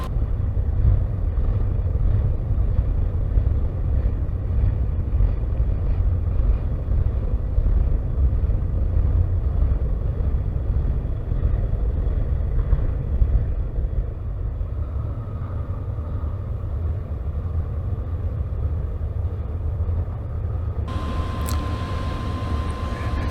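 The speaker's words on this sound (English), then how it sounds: "that's the same train, still rolling with the same 2 engines" A long freight train with two engines rolls steadily past on a CSX line near Savannah, a continuous heavy low rumble and rattle of wagons, loud and close, with a faint high tone appearing near the end.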